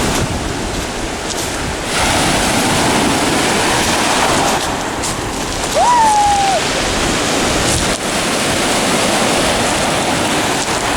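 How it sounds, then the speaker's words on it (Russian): Rough surf crashes continuously onto a shore in Abkhazia, a loud, steady roar of breaking waves with gusty wind buffeting the microphone and a brief whistle-like tone partway through. "Море буянит это вообще."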